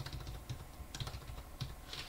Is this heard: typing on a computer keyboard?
yes